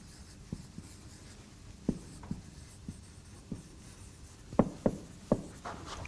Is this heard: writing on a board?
yes